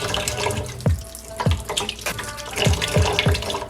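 A kitchen tap runs steadily over mushrooms being rinsed by hand, a continuous splashing stream broken by several soft knocks and handling sounds, close and alone.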